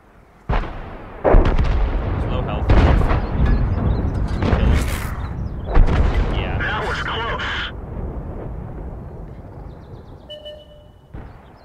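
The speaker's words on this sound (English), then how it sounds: "reload, fire again, yeah, misses" SU-5 self-propelled artillery gun in a tank video game, firing in several heavy booming blasts spaced a few seconds apart, with a voice talking over the shots throughout.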